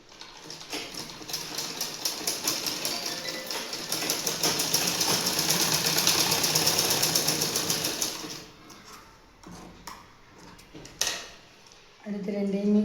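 Sewing machine running steadily as it stitches the side seam of elastic underwear, loud continuous whirring for about eight seconds, then stopping with a few short bursts and handling clatter; a voice speaks briefly near the end.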